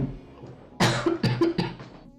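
A single person's cough, close and fairly loud: one sharp burst followed by a few quick rasping hacks in a short fit, with some faint throat noise before it and no talk.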